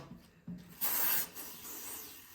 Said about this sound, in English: spray some lithium grease on there